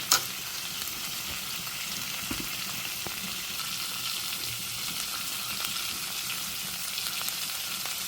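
Green string beans sizzle and crackle steadily in hot cooking oil with soy sauce, a close, continuous hiss broken by a brief clatter at the start and no voices.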